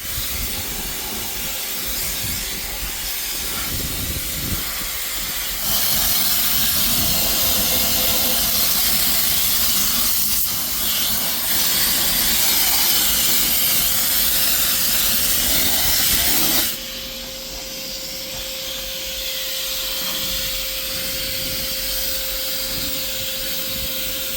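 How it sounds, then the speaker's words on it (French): A Karcher pressure washer at a coin-operated car wash sprays foam onto a van, giving a loud, steady hissing roar with a constant motor whine that grows louder for a stretch in the middle, then drops back to the earlier level. "Karcher, j'espère qu'il fonctionne."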